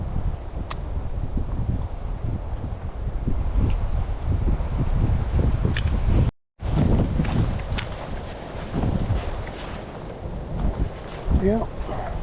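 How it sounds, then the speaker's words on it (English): Strong gusty wind buffets the microphone on the shore of Walker County Lake during a fishing trip, a loud low rumble with rustling and one brief dropout, and no speech. "it's just too windy, man."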